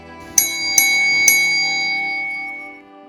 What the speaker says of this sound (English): will send 3 beats on the bell back to Linleys main to confirm train